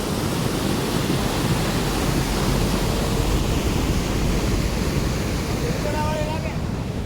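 Rain-swollen river water overflows its banks, a steady loud rushing roar filling the whole stretch, with a faint voice briefly near the end.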